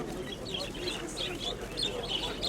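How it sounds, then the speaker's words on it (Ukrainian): Soft cooing and chirps from pigeons at a Dnipro bird market blend into continuous background chatter and market noise, voices talking throughout. "Це теж голубки"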